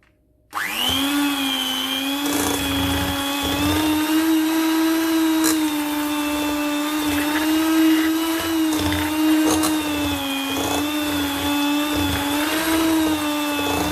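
An electric mixer starts abruptly and whirs loudly and steadily as it beats butter, holding a high motor whine with slight pitch wobbles and faint scraping for about thirteen seconds.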